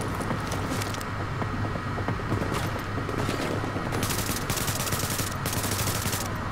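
Rifle fire from an ACOG-scoped gun in Tom Clancy's The Division, a steady, dense clatter of repeated shots over constant battle noise, loud and near, with rapid bursts growing more prominent toward the end.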